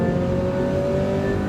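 Race car accelerating hard out of the slowest corner at the Phillip Island Grand Prix Circuit, a loud steady engine roar with a strong tonal drone heard from close up.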